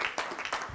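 Brief burst of applause for New Zealand heavyweight boxing legends, a quick patter of clapping that rises and falls in under a second, fairly close and not very loud.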